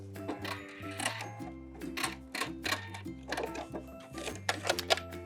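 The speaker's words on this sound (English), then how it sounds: "we're going to back stitch" A sewing machine back stitching on fabric from an old blazer being made into a mini skirt, running in short bursts of rapid mechanical ticking that stop and restart.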